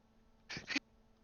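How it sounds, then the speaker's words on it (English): A person sneezes once, a short double-burst sneeze close to the mic in a quiet room, with no talk around it. "I was sneezing."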